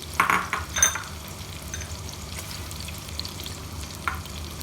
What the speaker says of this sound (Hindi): ऑयल अच्छा सा गर्म हो जाए, फिर हम इसमें प्याज शामिल कर देंगे।